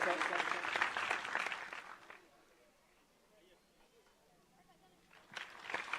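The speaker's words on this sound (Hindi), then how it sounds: "उनके पूरी टीम के लिए एक बार जोरदार ताली।" A crowd applauds a charity team at a Shrimad Bhagwat Katha gathering, a burst of clapping that fades into quiet and then starts again, with voices heard around it.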